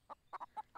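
A chicken in the farming game Everdream Valley gives five short, quiet clucks in an uneven quick rhythm, close and isolated against a faint background, with no speech.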